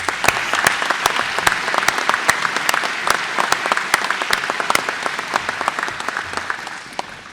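Sustained audience applause at a technical institute graduation ceremony, dense sharp claps running steadily throughout at a close, even loudness with no talk over it.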